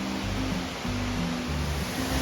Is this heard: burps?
no